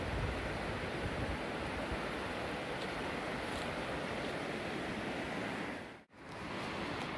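A fast-flowing river near the Albany Covered Bridge in New Hampshire rushes as a constant broadband roar during a light snowstorm, with a brief dropout near the end.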